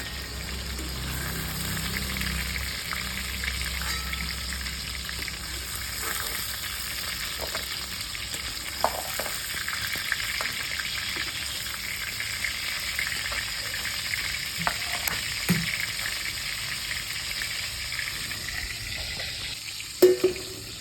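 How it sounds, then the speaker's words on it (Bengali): Pieces of pointed gourd (potol) fry lightly in oil in a kadai for a village-style doi potol, a steady close sizzle running throughout with a few faint clinks of stirring near the end. "বেশি ভাজবো না হালকা করেই ভাজবো পটলগুলো তুলে নেবো"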